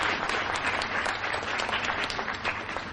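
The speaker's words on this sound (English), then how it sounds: "Might I ask you for another round of applause for" Dense, steady applause from an award ceremony audience, many hands clapping together at a constant loud level throughout, with no voices over it.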